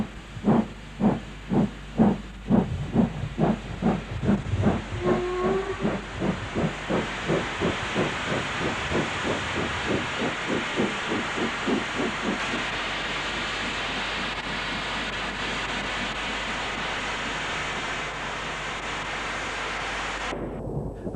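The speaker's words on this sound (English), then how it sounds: "Unrebuilt Patriot number 45518, Bradshaw, is seen entering the station" Unrebuilt Patriot steam locomotive No. 45518 Bradshaw, an Edge Hill engine, enters a station, its loud rhythmic exhaust beats slowing from sharp chuffs into a continuous hiss and rumble as it draws in, with a brief whistle early on.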